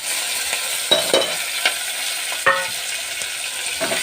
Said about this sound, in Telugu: ఇప్పుడు తరుక్కున్న కూరగాయ ముక్కలన్నీ వేసుకుందామండి